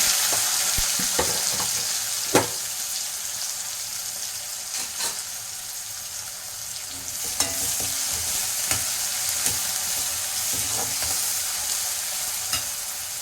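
Shallots (native small onions) with curry leaves sautéing in a pan, a steady broadband sizzle with scattered sharp scrapes and clinks of a spoon stirring, close and continuous throughout.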